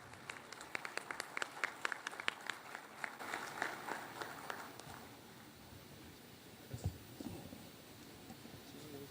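Audience applause greets a doctor arriving to give a talk at a national auditors' conference, a burst of scattered clapping that is loudest at the start and thins out over several seconds, with faint room noise and a brief thump near the end.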